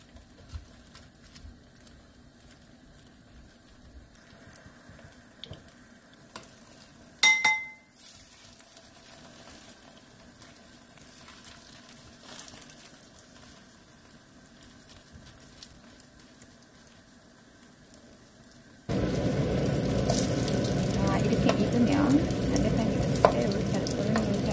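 Faint sizzling builds into a loud, steady frying hiss of Spam-stuffed onion rings in hot oil in a pan in the final stretch, after a brief clink of utensils.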